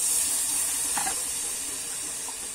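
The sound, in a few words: spice-rinsing water poured into frying spices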